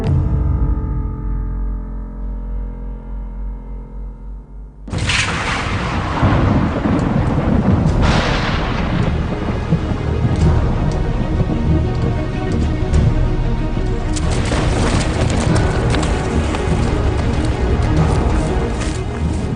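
Sudden thunderstorm in a forest near Seesen in the Harz mountains, 1812: after a few quiet seconds, a loud crack of thunder breaks into sustained rumbling and heavy rain, with further rolling thunder peaks.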